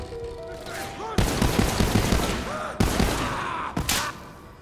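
Gunfire in Borderlands 3 comes as loud, rapid bursts of automatic shots, with several sharp onsets and spent-shell tinkles between bursts, under a game character's voice.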